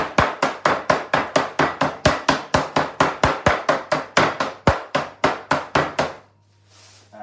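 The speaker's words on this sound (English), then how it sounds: "Easier with a meat hammer." Steady, rapid pounding of a meat hammer flattening chicken, about three blows per second for six seconds, close and loud, then quiet.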